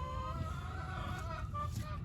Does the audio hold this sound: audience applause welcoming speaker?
no